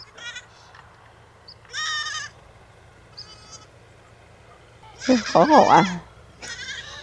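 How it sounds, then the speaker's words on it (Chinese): Young lambs on open grassland let out several loud, wavering bleats close by, mixed with people chatting in between. "七只小羊，好调皮啊，就是不肯回去。"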